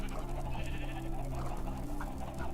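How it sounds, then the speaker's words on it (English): Sheep on a Minecraft farm bleat a few times, soft and somewhat distant, over a low steady background hum with no one talking. "Farm with lots of sheep."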